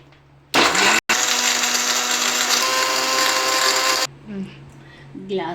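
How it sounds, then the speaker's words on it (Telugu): A mixer grinder blends a chocolate milkshake with ice pieces, giving a loud, steady whirring roar for about three and a half seconds with one brief cut-out, then quieter kitchen sounds. "ఇప్పుడు దీన్ని మిక్సీ పట్టేద్దాం"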